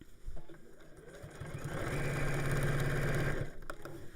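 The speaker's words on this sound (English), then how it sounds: "I know I've got a powerful sewing machine which does help with thicker fabrics" A powerful domestic sewing machine stitches through thick fabric and interfacing, giving a steady motor whir with rapid needle rhythm that builds up after a quiet start, runs for about two seconds, then stops.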